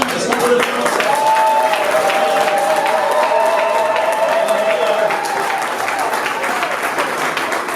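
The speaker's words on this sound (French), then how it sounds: "un petit applaudissement" Congregation at an evangelical church conference applauding, with sustained clapping and crowd noise while a voice speaks or chants over it.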